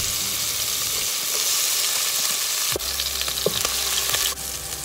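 Garlic and onion sizzling and frying in hot oil in a cooking pot, a steady close crackle that shifts partway through as stirring adds a few scraping knocks.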